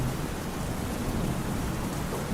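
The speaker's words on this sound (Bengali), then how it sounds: "বাইরে ঝড়ের সঙ্গে প্রবল বৃষ্টি শুরু হয়েছে" Heavy rain lashes down in a storm, an unbroken, even roar of dense rainfall with low rumbling beneath it, steady from start to finish with no voices.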